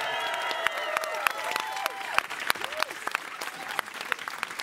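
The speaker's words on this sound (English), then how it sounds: "It won't be hard to get you to clap for all of these amazing streaming groups you can watch on Twitch" An audience at a live tabletop gaming event claps and cheers continuously, a dense close wash of applause with a few whoops rising above it.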